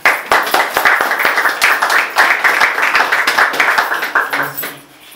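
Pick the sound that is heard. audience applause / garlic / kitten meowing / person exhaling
audience applause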